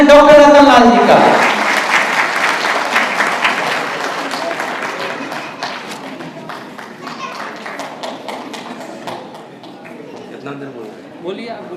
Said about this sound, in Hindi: उनका जोरदार तालियों से स्वागत करें डॉक्टर रतन लाल जी का